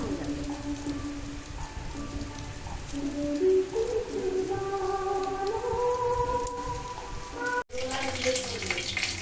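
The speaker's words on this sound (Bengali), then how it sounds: "দেখেছো কিরকম বৃষ্টি হচ্ছে" Heavy rain pours down outside a home, a dense steady roar of drops on surfaces running throughout, with tonal music layered over it and a brief dropout near the end.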